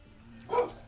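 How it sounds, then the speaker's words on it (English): A single short dog bark from a household dog, fairly close and moderately loud, over quiet room noise. "Excuse the dogs, they bark at everything."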